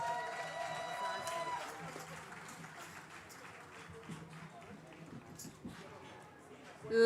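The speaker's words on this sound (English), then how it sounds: "Let's give them another round of applause." A crowd at the Sagicor Life Inc. 2024 lighting ceremony applauds the St. Leonard's Boys School performers with steady, moderately loud clapping that fades slightly before swelling again at the end.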